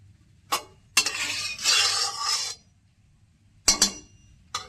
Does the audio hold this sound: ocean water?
no